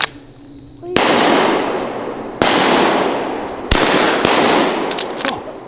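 Three loud, sharp gunshots ring out outdoors during a squirrel hunt, spaced a second or so apart, each with a long echoing decay through the woods, followed by fainter pops and clicks.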